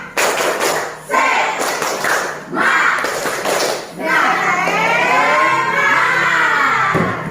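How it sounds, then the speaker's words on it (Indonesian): A class claps together in a quick rhythmic spirit clap, bursts of sharp claps separated by short pauses, with children's voices mixed in. "Tepuk semangat."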